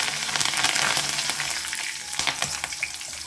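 Curry leaves fry in hot oil, a dense, close crackling sizzle with irregular pops and spits throughout, steady and loud with no one talking.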